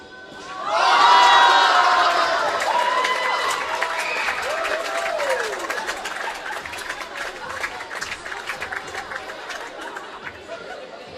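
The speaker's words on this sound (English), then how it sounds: "Round of applause." Crowd cheering and applause fill a basketball arena at a Big V home game between Waverley and Sunbury, surging loudly near the start, then holding as a dense, steady roar of voices that slowly tapers off.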